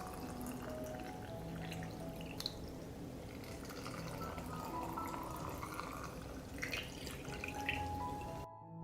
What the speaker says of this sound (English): I pour water into the jars to cover the blueberries.